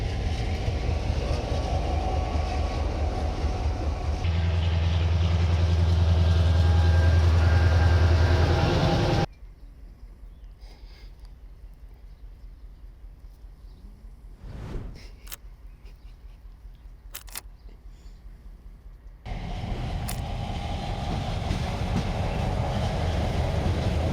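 Freight train wagons roll along rails in Bosnia and Herzegovina with a loud, steady rumble and clatter. The sound drops to a quieter interval of faint rattling and metallic clicks, then the heavy rolling noise swells back.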